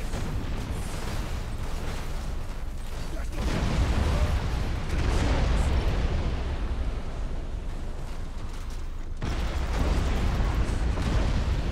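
Torpedo explosions in the space battle game Battlefleet Gothic: Armada 2 rumble as a continuous, heavy wash of booms and bursts, loud and dense throughout, with a voice talking over the blasts.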